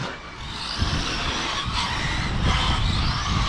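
Hobao Extreme VTe2 1/7 RC car with a Castle Creation 1520 1650KV motor on 6s, set up for rally, sliding on tarmac, with a continuous loud gritty tire scrub and electric whine, close, no voices.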